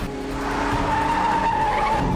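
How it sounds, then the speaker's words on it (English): A car races and skids, its tires letting out a loud, sustained squeal over the engine roar, close and continuous for a couple of seconds with no talking. "Norman, slow down!"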